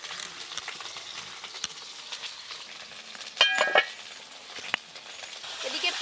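Onions frying in a pan in a village kitchen, a steady soft sizzle with occasional utensil clinks and stirring scrapes, one brief louder clatter midway.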